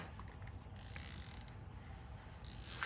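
A fishing reel's drag clicker ratchets as line is pulled out, giving close, quiet bursts of rapid mechanical clicking that surge and ease with the pull.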